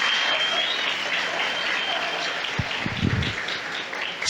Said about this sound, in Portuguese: Não, você é para aplaudir, aplaude direito esse negócio